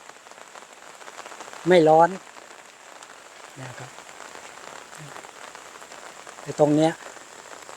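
Steady rain patters over rice fields in a soft, even hiss, with someone talking briefly in two short bursts over it.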